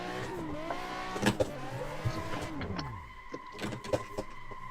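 A Nissan 350Z drift car's engine loses power and cuts out, its revs sweeping down and fading, while other engine noise and a few sharp knocks continue nearby.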